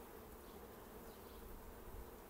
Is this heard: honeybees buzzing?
yes